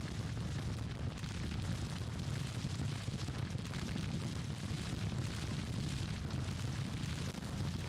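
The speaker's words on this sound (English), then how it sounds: "Enemy has a lot of artillery also." Dense, continuous rumble of artillery fire across a Civil War battlefield in the strategy game Grand Tactician: The Civil War, with booms overlapping steadily at a loud level throughout and no talking.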